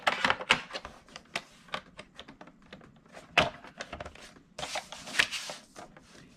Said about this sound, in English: I'm going to place it in my cutter.